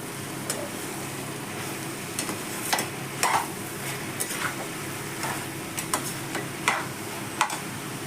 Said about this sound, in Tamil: மூடி போட்டு 5 நிமிஷத்துக்கு ஒரு தடவை திறந்து கிளறி விட்டுக்கிட்டே இருங்க.